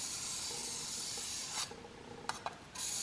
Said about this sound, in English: Then we're going to go back and break off the burr.